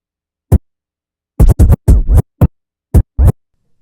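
DJ turntable scratch pattern chopped with a crossfader: a single cut, then a rapid cluster of short scratches, then a few more spaced bursts, loud and close against silence.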